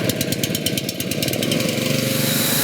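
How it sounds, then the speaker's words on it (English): Small gas engine of a portable fiber optic cable blowing system on a Larson cable trailer starts up and runs, a loud steady rumbling drone with rapid rhythmic pulsing, close by and continuous with no voices. "Now we're ready to fire up the engine and start blowing fiber"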